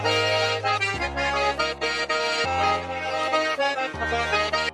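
A sampled melody loops with an added deep bass note underneath, the low note shifting pitch every second or so beneath bright melodic tones, steady and moderately loud, no voices.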